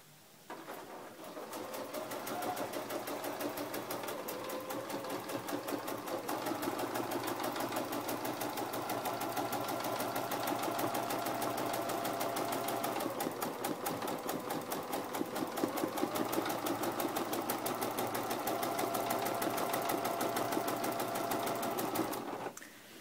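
A sewing machine stitching a free-motion quilted feather runs steadily for about twenty seconds, a fast, even mechanical whir and needle chatter heard close up and alone, starting and stopping abruptly.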